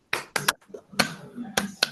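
Classroom clapping game with short bursts of hand claps in quick rhythmic groups, crisp and close, interleaved with a voice counting along.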